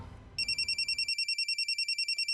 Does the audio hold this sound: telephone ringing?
yes